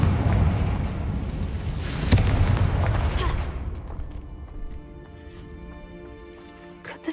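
A Confringo blasting spell goes off in Hogwarts Legacy: a loud, booming blast with a sharp crack around two seconds in, followed by a rumbling tail that fades under steady ringing game music.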